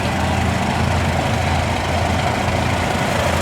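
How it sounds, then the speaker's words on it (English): A 1956 Farmall 400 tractor engine idling at an outdoor vintage tractor show, a steady low rumble with broadband mechanical noise that holds constant throughout, fairly close and loud. "here's a Farmall 400, 56, just sitting here idling away"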